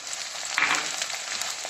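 Green chillies sizzle in hot oil as they are sautéed for a green chilli fish dish, a steady close-up hiss with a brief louder crackle partway through.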